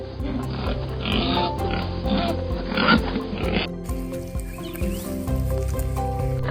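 Black pigs on a farm grunt and squeal in a pen, a continuous chorus of rough snorts and calls, fairly close, over narration-free background noise.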